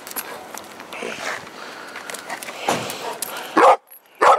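A dog barks sharply twice near the end, close and loud, after a stretch of scuffling and shuffling movement.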